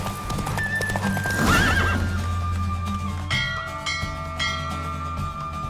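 A horse in a race in the video game The Witcher 3 gives a loud, shrill neigh over steady galloping hoofbeats, with bell-like chimes ringing out afterward as the hooves keep pounding.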